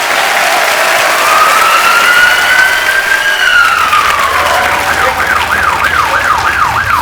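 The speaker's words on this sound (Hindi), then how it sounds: "जोरदार तालियां हो जाए एक बार।" A studio audience at The Kapil Sharma Show gives loud, sustained applause. Over it, a siren-like wailing effect rises, then warbles in quick cycles.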